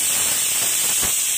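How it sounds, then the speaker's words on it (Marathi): A pressure cooker of rice on a gas stove vents steam, a loud, continuous high-pitched hiss and whistle that holds steady through the short stretch. "पण आता इथे भाताची शिट्टी व्हायली"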